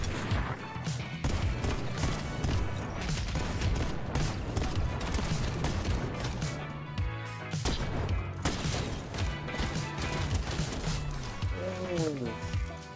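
Rapid clattering gunfire in a ranked solo Fortnite match, loud repeated shots and impacts running throughout under a player's excited talk.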